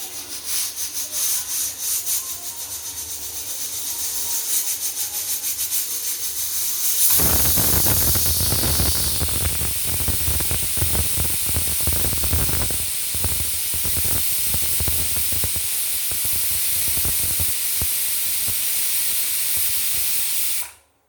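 A pressure cooker's third whistle: a steady, loud hiss of escaping steam sets in partway through and holds until the end, preceded by quieter rushing noise.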